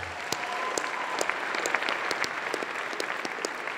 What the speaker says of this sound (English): can we have a round of applause again for all the nominees?